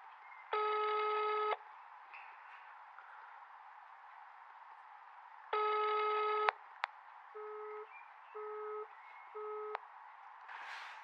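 Telephone answering machine tones on a phone line: two long steady beeps several seconds apart, then a sharp click and three shorter tone pulses, over a constant hiss of line noise, with no voices.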